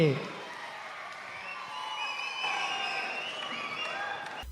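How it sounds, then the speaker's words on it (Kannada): Loud applause from a public crowd at a Vanamahotsava tree-planting event in Kalaburagi, where Mallikarjun Kharge was introduced to speak; sustained clapping fills the whole stretch, steady and dense. "ಜೋರಾದ ಚಪ್ಪಾಳೆ"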